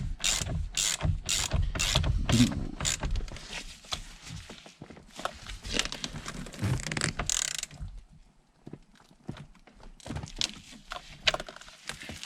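Ratcheting clicks as a new heated steering wheel is tightened onto a Chevy Silverado column, bursts of close mechanical clatter and handling noise coming and going, fading quieter toward the end.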